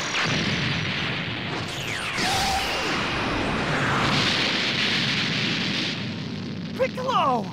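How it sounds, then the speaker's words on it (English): A beam cannon attack in Dragon Ball Xenoverse 2 makes a sustained roaring energy blast with sweeping whooshes and rumbling bursts, loud throughout, and game vocal effects mixed in. "Beam cannon!"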